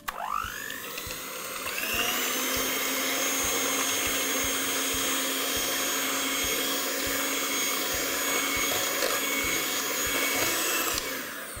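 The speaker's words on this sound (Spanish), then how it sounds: "Comenzamos por agregar las claras de huevo que tienen que estar a temperatura ambiente. Y comenzamos a batir." An electric mixer whirs at a steady, loud, high-pitched drone as it beats room-temperature egg whites, starting up abruptly and running without pause for about ten seconds before cutting off.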